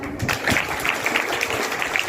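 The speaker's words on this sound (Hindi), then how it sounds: "पहले ताली बजाओ" An audience at a summer camp event claps for the camp organizers: a steady wash of many hands applauding together, fairly loud and continuous throughout.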